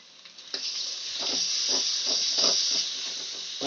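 Ground coriander and cumin spice paste hitting a hot pan for chicken, giving a loud steady hiss with soft bursts of crackle throughout, no voices.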